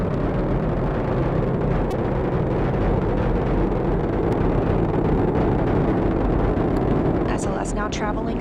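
Artemis 1 SLS rocket in flight near max Q, a steady, loud, broadband engine roar that fills the whole span without letup, with a commentator speaking over it.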